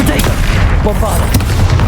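A Bombarda spell explosion in Hogwarts Legacy bursts amid rapid, loud, layered blasts and crackling booms during combat, with a voice briefly heard over the din.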